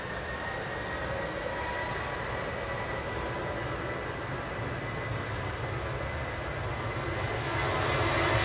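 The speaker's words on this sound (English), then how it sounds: "Noisy prop making its way over." A propeller aircraft drones overhead near Manchester Airport, a steady, fairly faint engine hum with a faint tonal whine that grows slightly louder toward the end.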